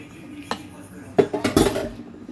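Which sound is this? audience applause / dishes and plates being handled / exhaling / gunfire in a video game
dishes and plates being handled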